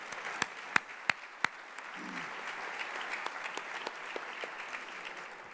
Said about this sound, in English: How about another round of applause for the Boys and Girls Club Performing Arts members led by Alana Tento.